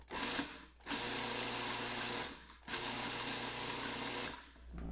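A food processor runs on garlic scapes with salt in two sustained loud whirring bursts, each a couple of seconds long, separated by brief pauses, close to the microphone.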